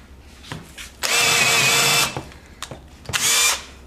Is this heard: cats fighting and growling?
no